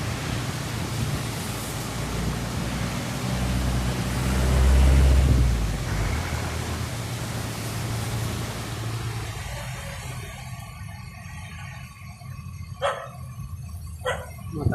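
Strong typhoon wind roars as broadband rushing noise during Typhoon Ulysses flooding, loud and steady at first and easing later, with a few brief sharp knocks near the end.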